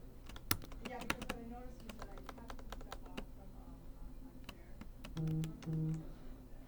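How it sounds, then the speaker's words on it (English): Typing on a computer keyboard: a quick run of close, crisp key clicks in irregular bursts, with a short pause and then a few more taps, over a quiet room background with low hum. "So I'll type out BAD here."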